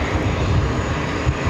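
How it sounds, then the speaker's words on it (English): A Delta airliner taking off at JFK gives a steady, loud engine roar, broad and continuous without a break for the whole short stretch. "Delta takeoff."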